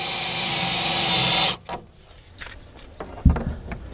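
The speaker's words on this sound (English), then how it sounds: "you can drill that hole" A power drill whines steadily for about a second and a half, drilling a hole in a 2016 Toyota Tacoma truck bed for a BakFlip tonneau cover, then stops abruptly, followed by faint handling clatter and a soft thump.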